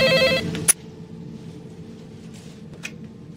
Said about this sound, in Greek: Τηλέφωνο.